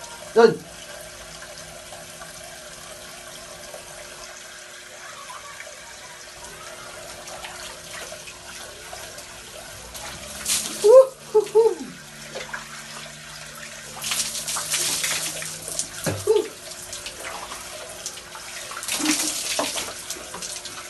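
Water splashes and pours in uneven bursts during a bath, sometimes louder and sometimes quieter, while a person talks in between.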